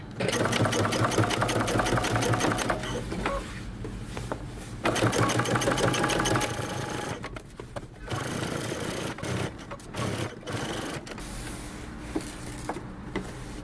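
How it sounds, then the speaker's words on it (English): A sewing machine topstitches around a jeans waistband, its motor running in steady bursts with short pauses between runs, close and fairly loud with no talking. "Now top stitch all the way around your waistband."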